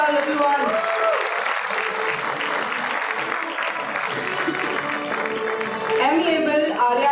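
An audience of parents applauds steadily at a pre-primary school convocation ceremony, the dense clapping holding at an even level throughout while a voice speaks over it.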